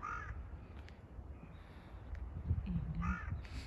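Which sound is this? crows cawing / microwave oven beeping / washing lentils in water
crows cawing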